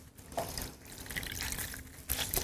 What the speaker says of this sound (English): you want to wring out all the excess water